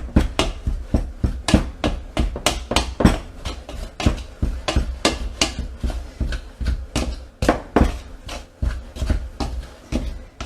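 Shortening cut into flour for pie crust gives a fast run of dull, even thumps as the tool strikes the bowl, loud and close throughout.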